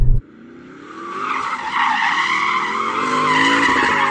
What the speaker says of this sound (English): though four-wheel drive SUV, it's not meant for sliding around and donuting, but I don't give up.